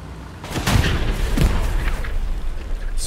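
A grenade in Hell Let Loose goes off with two heavy, close booms about a second apart, each a deep thud that fades into a rumbling battlefield background.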